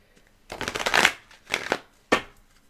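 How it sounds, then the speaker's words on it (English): A deck of tarot cards being shuffled, with three separate riffling bursts, the first longest and the next two shorter, close-up and crisp with no talking. "some decks, they shuffle better"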